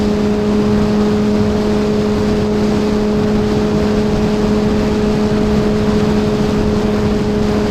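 A Kawasaki Z H2 motorcycle accelerating at half to three-quarter throttle, a loud, steady engine drone mixed with rushing wind noise throughout, with no speech.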